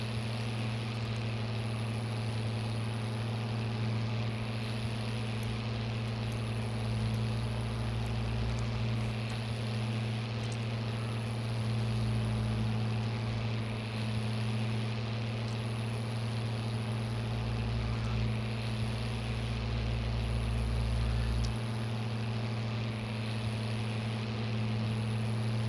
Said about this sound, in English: This is not the fastest tractor,